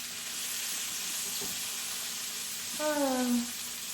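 Lamb chops sizzle in a frying pan with a steady, close hiss, while a brief voice rises over the sizzle near the end.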